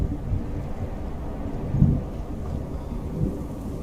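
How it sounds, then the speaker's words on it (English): Low, rumbling thunder in Skyrim with the Scandinavian Seasons Extended mod, a continuous distant roll with a couple of slightly louder swells over a faint rain-like hiss, no voices. "I could definitely hear the thunder"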